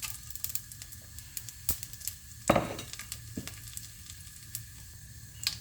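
Dried red chillies, cinnamon and bay leaves frying in hot oil for moong dal: a low sizzle with scattered clicks and one louder burst of crackle, no talking.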